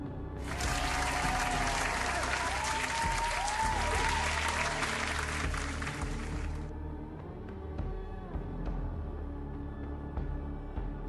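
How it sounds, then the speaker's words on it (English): A crowd breaks into loud, steady applause for about six seconds, then it fades into quieter room noise and scattered claps. "Give yourself a round of applause"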